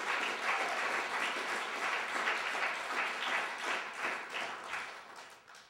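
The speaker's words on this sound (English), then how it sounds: "a round of applause for everyone involved" Sustained audience applause at a spoken word poetry festival in Calgary, dense steady clapping throughout that thins slightly toward the end.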